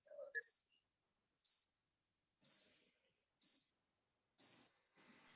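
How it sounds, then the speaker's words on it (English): A short, high electronic beep repeats about once a second, five times, clear against near silence, after a brief soft blip at the start. "Just one beep in the background."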